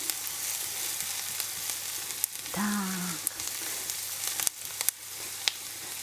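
Onion and chopped chicken thigh fillet fry in a pan with a steady close sizzle, briefly stirred, while an item scrapes once near the middle; no talk is heard.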